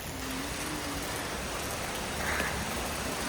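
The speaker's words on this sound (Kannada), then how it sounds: "ಸೊ ಇದು ಮಳೆ ಬರ್ತಾ ಇದೆ" Heavy rain pours steadily, a dense continuous hiss of drops with no pauses, close and loud throughout.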